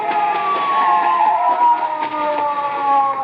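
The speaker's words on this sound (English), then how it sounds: "A police car." Police car siren as a radio drama sound effect, a steady wailing tone sounding loud and fairly close, continuous throughout with no talk.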